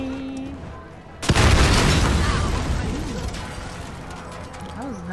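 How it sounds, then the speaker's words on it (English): Grenade explosion in Modern Warfare's embassy mission, a sudden loud blast after a quiet moment, followed by a long rumbling decay with a scattered debris-like rattle and a voice talking underneath. "Throw a grenade."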